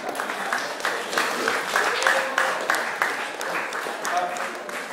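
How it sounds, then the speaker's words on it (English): Wedding guests applaud together during a best man's speech, a sustained burst of clapping that swells and fades, with a voice talking over it. "So I think a round of applause to yourselves for all coming"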